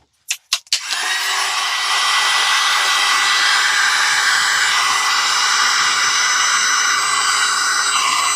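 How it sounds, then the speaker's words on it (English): A heat gun blows hot air over resin, a loud continuous rushing hiss that starts after a couple of quick clicks and holds steady throughout. "I'm going to use my heat gun"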